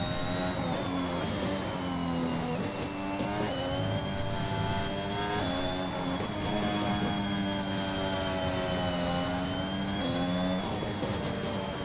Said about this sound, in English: These drivers are currently doing their formation lap. Getting those tyres hot,